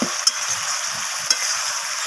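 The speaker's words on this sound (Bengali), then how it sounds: "বেশ কিছুক্ষণ সময় ধরে এটাকে আমি কষিয়ে নেব" Chicken gizzard and liver sautéing in a pan, a steady close sizzle of frying with two brief scrapes or taps of a utensil, no voices.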